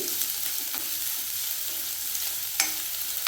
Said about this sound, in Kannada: ಇದು ಎಣ್ಣೆಲಿ ಫ್ರೈ ಆಗ್ತಾ ಇದೆ.